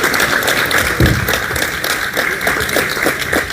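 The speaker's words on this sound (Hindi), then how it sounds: "तालियों से स्वागत" An audience claps in welcome at a BSNL jubilee day event in India, a steady, fairly loud patter of hands that carries on for a few seconds while a hum runs underneath.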